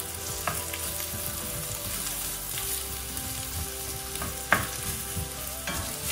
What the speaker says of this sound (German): beginnen wir mit dem Gulaschansatz in reichlich Öl. Wird der Zwiebel langsam goldbraun angeschwitzt.